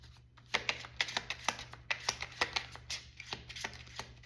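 A deck of cards is shuffled close by, giving a quick series of crisp riffling snaps and clicks over about four seconds in an otherwise quiet space.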